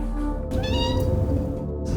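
A cat meows with a drawn-out, wavering cry over a steady low background hum, close and fairly loud.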